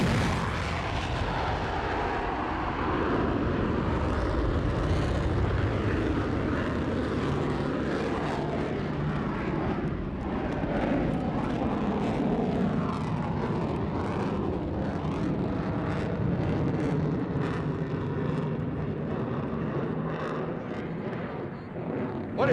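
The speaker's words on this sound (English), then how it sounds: "Gear down, flaps down, simulating a carrier landing. Working that throttle. A touch and go, folks." A Grumman F-14B Tomcat jet with gear and flaps down makes a touch-and-go on a runway, simulating a carrier landing; a loud, continuous engine roar swells and shifts as the throttle works, dominating throughout.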